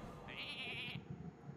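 A single sheep bleats once in a video game, a short, faint, wavering cry under quiet game sounds.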